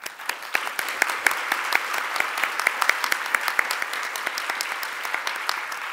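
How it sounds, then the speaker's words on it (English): Conference audience at an IETF plenary applauding to thank the sponsors, a fairly even patter of many hands in a large hall that carries on steadily without fading. "if we could just take a minute to applaud and thank all of our sponsors"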